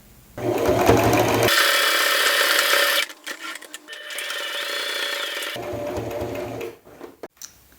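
A sewing machine stitches a seam on a Mood Fabrics fleur robe, running in two steady bursts of whirring with a brief pause between them, close and fairly loud, then stopping.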